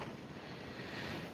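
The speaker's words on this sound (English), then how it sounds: "But this wind is something crazy tonight" Faint, steady rushing wind with 17 mph gusts buffets the microphone with a low roar and no voices, at night in Ashtabula County, Ohio.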